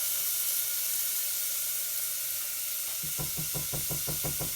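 Garlic, ginger, coconut and masala frying in a pan, a steady close hiss of sizzling oil, joined near the end by a run of rapid rhythmic knocks like stirring against the pan.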